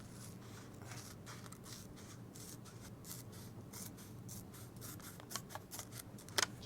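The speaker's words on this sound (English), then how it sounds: "What I do is I cut it into about an inch strip," Scissors snip through a thin strip of Post-it note paper, giving a series of quiet, crisp cuts over a steady low background hum, with a few sharper snips near the end.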